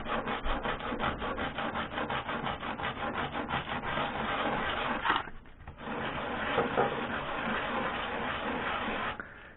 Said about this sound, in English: The way I did it is a few passes on a rough piece of sandpaper.